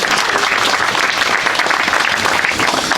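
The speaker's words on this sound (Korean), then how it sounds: "박수 한번 보내주시기 바랍니다." Audience applause at a memorial ceremony, a dense, loud, continuous clapping from a large crowd filling the hall evenly throughout.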